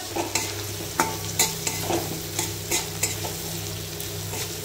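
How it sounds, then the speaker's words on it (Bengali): Potatoes with turmeric fry in oil, a steady close sizzle broken by several sharp scrapes and knocks of a spoon stirring in the pan, with no voices. "এখানে হলুদটা তেলের মধ্যে দিয়ে দিলাম যাতে গন্ধ না করে"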